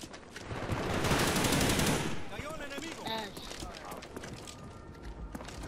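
Light machine gun fire in a first-person shooter gun game: a dense burst of rapid automatic shots for about two seconds, loud and close, followed by scattered clattering and game effects with voices talking over it.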